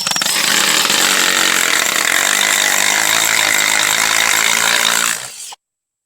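A power drill bores into a concrete floor to set anchors for a tire machine, one loud, continuous grinding whine held for about five seconds before cutting off abruptly.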